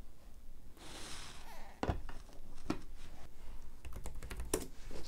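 Keys click in a sparse, irregular pattern on a Logitech K380 wireless keyboard, a few crisp taps close by with quiet pauses between them.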